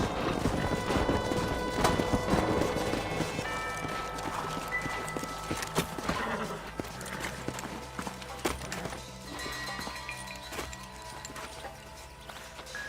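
Horses gallop in Red Dead Redemption, a steady clip-clop of hooves running beneath game music, with a faint whinny and no talk.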